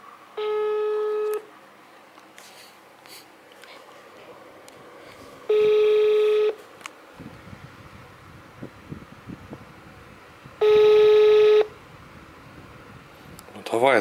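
An outgoing phone call rings back with three evenly spaced long tones, each about a second, separated by gaps of faint room noise and scattered small handling clicks.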